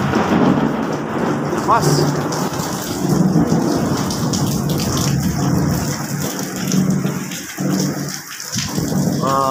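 Steady heavy rain hisses at a construction site near the sea as thunder rolls low underneath, with a brief spoken word partway through.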